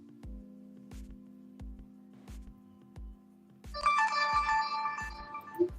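A phone rings with a dated 1990s-style electronic ringtone, a steady repeating warble pulsing about every 0.7 seconds at close range, before a burst of louder tinny melodic chiming takes over near the end.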